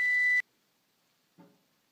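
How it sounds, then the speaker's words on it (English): A kitchen oven timer sounds while tomatoes roast, one loud steady electronic beep lasting under half a second, then near silence with a faint, brief clatter. "You hear my timer going off, going wild."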